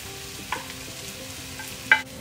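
Garlic and onions frying in a pan for goat adobo, a low steady sizzle with soft stirring scrapes and a couple of brief utensil knocks, no talking.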